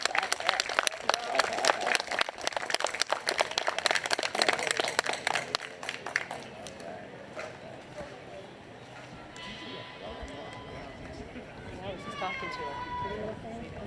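Audience applause welcomes a speaker at an outdoor Juneteenth celebration. The clapping is loud and dense for about six seconds, then fades into crowd murmur and background sounds.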